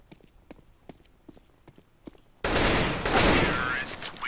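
Gunfire bursts from a tactical shooter game on a bomb-site map: soft scattered taps and clicks at first, then a sudden loud sustained wash of rapid shots and noisy blasts that fills the rest.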